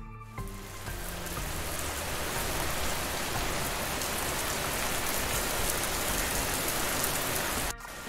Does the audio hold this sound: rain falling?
yes